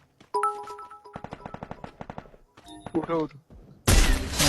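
Video-game gunfire from an enemy shooting out of a tower, heard as rapid bursts of sharp shots and tonal in-game effects, followed by a loud noisy blast, with brief speech from a player.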